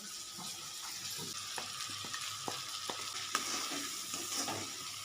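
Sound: semolina being stirred in frying pan

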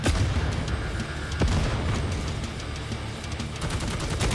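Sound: video game explosions and gunfire

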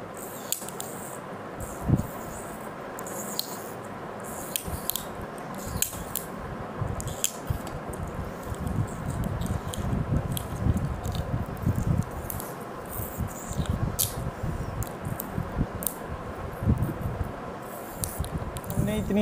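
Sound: tape being wrapped around a sparkler

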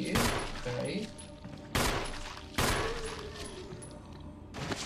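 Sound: pistol shots fired at a zombie in Resident Evil video game

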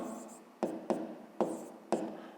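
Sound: writing math expression on paper

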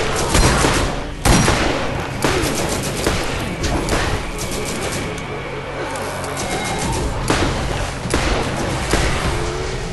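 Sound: turret firing in video game Borderlands

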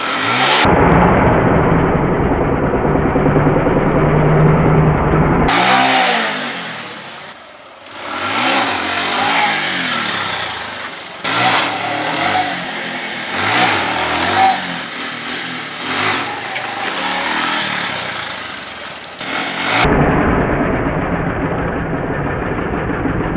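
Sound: motorcycle engine revving while doing a wheelie

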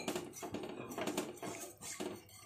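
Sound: stirring white sauce for pasta in a pan

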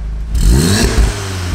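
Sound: VW Golf R engine revving with original exhaust

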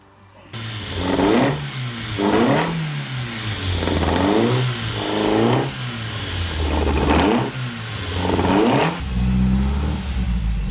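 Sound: car engine revving at 5000 RPM on the Autobahn

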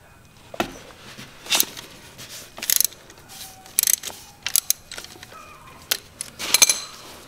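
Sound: adjustable oil filter wrench turning Honda Africa Twin oil filter

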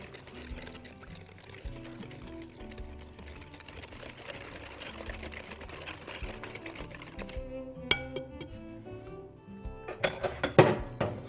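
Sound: whisking carrot cake batter while adding oil

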